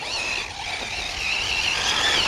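Arrma Typhon 6s V5 RC car, running 300k diff fluid, spinning around under power to the rear wheels, heard as a steady high motor whine with wheel and surface noise, fairly close, rising slightly toward the end.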